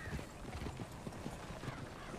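Horse hooves clip-clop steadily across open prairie in Red Dead Redemption 2, a close, continuous rhythmic patter of low thuds with faint background ambience.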